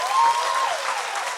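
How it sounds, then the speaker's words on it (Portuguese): An audience gives a round of applause after a talk on biblical theology, a dense steady wash of clapping with a brief whistle-like tone early on, continuing without pause. "a galera bate uma salva de palmas"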